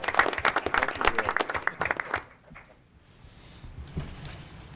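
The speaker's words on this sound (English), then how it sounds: "we'll give her a round of applause" A school audience gives a round of applause for a nominated elementary school counselor at a teacher of the year event. Dense, lively clapping fills the room for about two seconds, then fades into quieter room noise with a few scattered claps.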